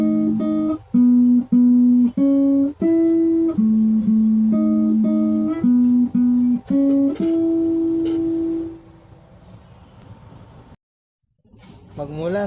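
A guitar plays the short melodic intro riff of a song in distinct plucked notes in a steady rhythm, ending on a sustained note that rings out and fades.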